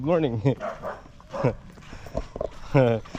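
A puppy on a small rural farm gives a few short, yipping barks close by, mixed in with people talking.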